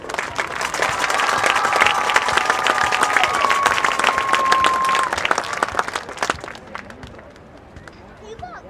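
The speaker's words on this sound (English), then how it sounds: "give a big round of applause to the entire 2025 Homecoming Chorus" Crowd applause at a homecoming ceremony during a varsity high school football game, dense steady clapping and cheering for several seconds with a whistle-like tone, then tapering off toward the end.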